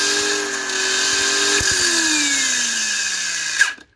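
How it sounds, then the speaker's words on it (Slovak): A Parkside PWSAP 20-Li C3 cordless angle grinder, its disc rated at 10,000 rpm, runs with a loud, steady high motor whine. After a click it winds down with falling pitch, then cuts off abruptly near the end. "Takže ak si brúsku zapnete, treba tlačítko stlačiť"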